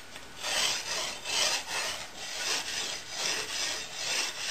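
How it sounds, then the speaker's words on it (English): Steel file rasping along the edge of a katana blade, working at 45 degrees to round off the edge; steady rhythmic strokes, about eight back-and-forth passes, close and continuous with no voices. "I went on the 45s to take off the edge that I've created by flat filing the top"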